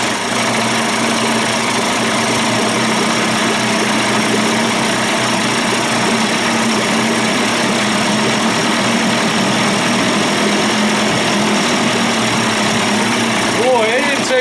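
A Johnson Evinrude outboard motor, a 25 to 35 hp conversion, idles steadily while its carburetor is adjusted, a continuous loud engine drone with a slight rise in pitch near the end.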